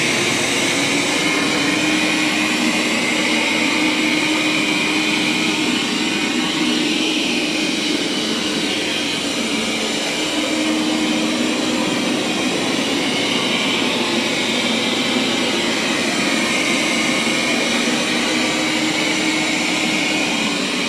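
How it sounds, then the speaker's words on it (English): A robot vacuum and mop runs over carpet, its steady loud whooshing motor hum continuing unbroken and close by with no voices. "It's definitely doing a good job of vacuuming."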